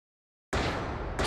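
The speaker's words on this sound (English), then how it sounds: "That sounds like gunshots" Gunfire in an Ace Attorney courtroom game scene: a loud, dense burst of cracking shots starting abruptly after half a second of silence and running continuously, with a fresh burst near the end.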